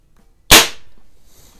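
A single sharp pop from a .177 CO2 pellet pistol, likely a Webley Nemesis or Ampell Acro 1, fired on a target range: one loud, close crack with a short tail and no talk.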